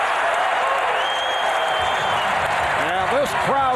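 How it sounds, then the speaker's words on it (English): A basketball arena crowd applauds and cheers after a blocked shot in an NBA game between the Detroit Pistons and Cleveland Cavaliers, a loud sustained roar with a whistle, while a commentator talks over it. "And this crowd responds."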